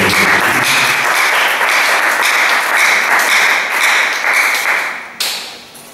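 A church congregation applauds, sustained loud clapping from many hands that thins and fades near the end, with a final sharp tap.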